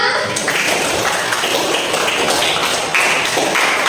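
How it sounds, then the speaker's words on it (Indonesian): A class of students applauds after a lesson, a dense, steady wash of hand clapping that stays loud and even from start to finish. "Tepuk tangan untuk kita semua."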